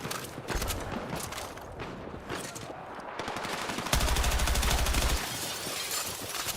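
M16 rifle fire with a double port muzzle brake in a multiplayer shooter game, rapid bursts of gunfire with shattering impacts, including one sustained loud automatic burst near the end.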